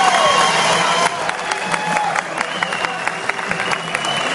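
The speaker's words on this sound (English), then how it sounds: "Let's give him a round of applause." Crowd applause and cheering at a bodybuilding competition, dense clapping with scattered whoops from a large audience in a hall, sustained and fairly loud, with some voices mixed in.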